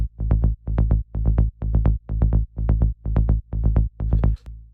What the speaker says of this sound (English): It is just an analog model synth here